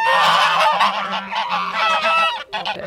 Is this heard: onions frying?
no